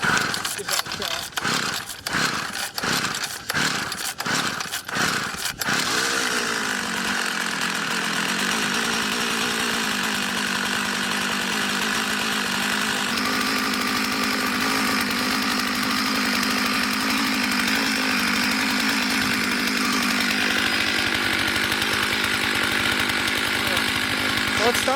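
A gas-powered ice auger engine is pulled several times in quick rhythmic tugs, then catches and runs in a steady, loud, droning idle as a person talks over it.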